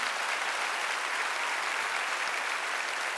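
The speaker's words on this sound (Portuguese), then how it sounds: "será que você pode dar um aplauso ao Senhor por esta verdade?" A church congregation applauds steadily for a few seconds, a dense, continuous wash of clapping filling the room with no voices standing out.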